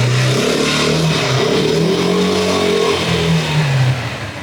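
An off-road ATV engine revs steadily in reverse gear, a loud, close, continuous drone with a rising and falling pitch that eases off near the end.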